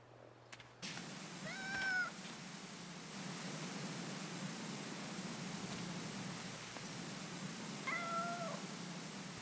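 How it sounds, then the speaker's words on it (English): A cat meows twice in Powerwash Simulator 2, once near the start and again later, each a clear harmonic call over steady hissing background noise. "Oh, I hear a cat."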